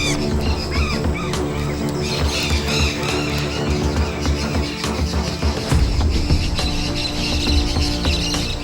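Flock of parakeets at an Amazon clay lick, dense overlapping harsh squawks and chatter from many birds at once, loud and continuous with no pauses.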